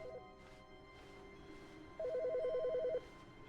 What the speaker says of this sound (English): It's a phone here.